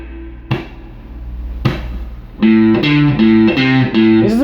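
Distorted electric guitar plays a riff: two loud single stabs spaced apart, then a steady rhythmic run of repeated chugging notes, played alone and up close.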